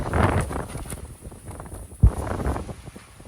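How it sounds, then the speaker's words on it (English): Heavy gusts of wind roar past during a powerful cold front, buffeting the microphone in surging bursts with a sharp thump midway, loud and close, with no speech. "Wow, heavy gusts of wind, probably 30-40 miles an hour at least."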